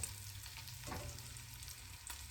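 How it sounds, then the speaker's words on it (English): Cold liquid tomatoes hit hot oil in a pan, producing a constant close sizzle and spatter with a couple of sharper pops and a faint scraping stir. "adding the cold liquid tomatoes to the oil is bound to spatter"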